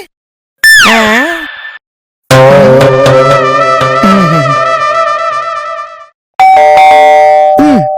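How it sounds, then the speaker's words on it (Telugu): A doorbell sound effect chimes loudly three times: a short sliding ding, a longer melodic ring that fades out slowly, and a final chime, each separated by a brief silence. "వేణువులో నుంచి కాలింగ్ బెల్ వచ్చిందేమిటి?"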